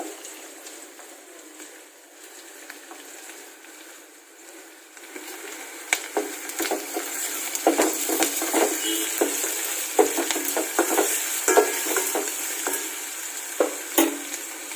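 Onion and carrot fry in a spiced oil tempering, with a soft sizzle that grows louder and is punctuated by scraping stirs and clinks against the pan.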